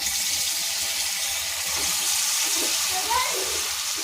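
Pitha batter frying in hot oil in a wok, a steady dense hiss of sizzling oil running throughout with small bubbling crackles, close and fairly loud, with no voices.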